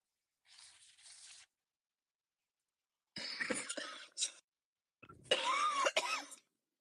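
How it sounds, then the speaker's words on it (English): Three bursts of coughing, close to the microphone, separated by silence: a short muffled cough, then two louder harsh coughing fits. "Sorry, that was me coughing."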